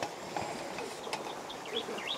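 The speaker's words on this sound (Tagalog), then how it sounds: "makakarinig ka pa ng mga huni ng ibon" Small birds chirp in short, scattered tweets over the steady rush of a stream at a campsite, faint and somewhat distant against the water noise.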